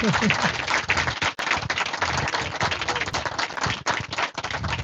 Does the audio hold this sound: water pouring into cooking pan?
no